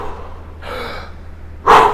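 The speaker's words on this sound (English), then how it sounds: "I'm going to take 3 deep breaths" During a rest between sets of power cleans, a person takes deep breaths: a long, airy inhale followed by a louder, forceful exhale, close to the microphone over a low steady hum.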